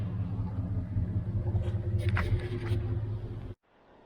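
A Dodge Ram pickup truck with an oil pressure problem idles steadily, giving a low, continuous engine rumble that stops abruptly near the end.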